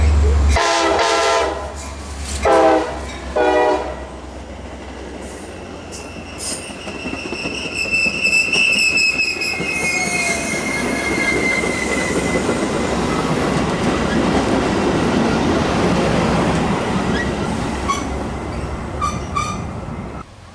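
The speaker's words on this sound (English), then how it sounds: "Milwaukee West train number 2715 to Elgin is now arriving." A Metra Milwaukee West commuter train to Elgin rumbles into a station and slows, its wheels squealing with a high metallic whine over a deep steady roar, with a short horn blast near the start.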